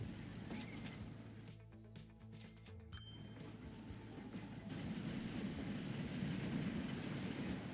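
An 1870s-era tram running in the Transport Fever 2 simulation game, with a steady rolling rumble, metallic clinks and clickety-clack from the wheels, continuous and moderately loud with no voices.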